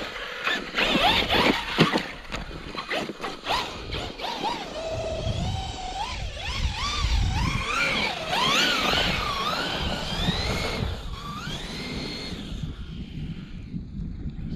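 An ARRMA Kraton XL v2 EXB RC car revs hard in a gravel pit, its electric motor whining in rising and falling pitch sweeps as it spins for grip, loud and close with wind buffeting the microphone.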